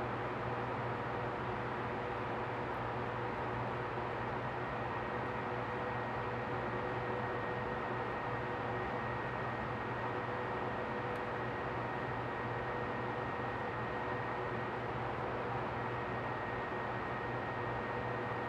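A steady, unbroken electrical hum fills a small apartment where fans and lamps are running, a constant droning tone with a faint hiss over it that lasts throughout without any voices.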